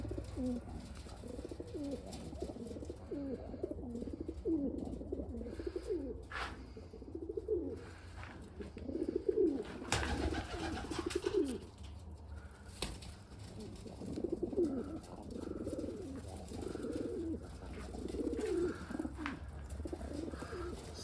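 Homing pigeons coo steadily in a loft, a flock of adult birds giving repeated low, rolling calls in overlapping waves, close and moderately loud, with occasional wing flaps and no talk.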